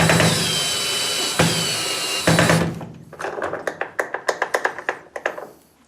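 A power drill whirs continuously while driving a screw into a Shark Navigator vacuum wheel, then stops, followed by a series of sharp close taps and clicks.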